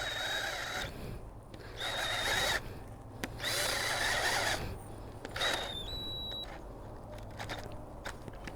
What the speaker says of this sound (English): The last one we're gonna try out is the tiller, so let's go give it a try.